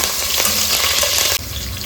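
Curry leaves hit fried onion in a hot pan for Coorg-style chicken curry, a loud, close sizzle that suddenly drops to a quieter fry near the end.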